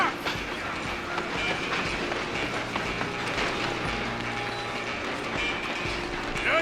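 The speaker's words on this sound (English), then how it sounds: "I'm gonna ride ahead and stop the train" A moving train in the video game Red Dead Redemption 2 rumbles steadily and close, with rhythmic wheel clatter and a low engine drone running throughout.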